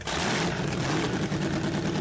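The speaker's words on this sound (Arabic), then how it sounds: "رأوه يشغل محركا، بدا من صوته أنه يحتاج إلى إصلاح" A rough-running boat motor that needs repair drones steadily as a small boat heads out to sea, a loud, continuous rumble blended with the wash of waves.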